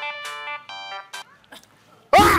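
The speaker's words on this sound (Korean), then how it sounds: "다음 전화 오네." An incoming call sets off a phone ringtone: a bright electronic melody of short tonal bursts, clear and close, ending as a voice abruptly begins speaking.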